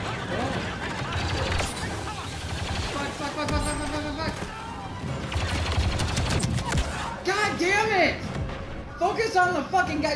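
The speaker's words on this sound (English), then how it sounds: "Shooting at you, Trevor." Rapid blaster gunfire from Star Wars Battlefront II in Blast mode, dense and continuous bursts of shots mixed with game effects, loud and up close, under excited player chatter throughout.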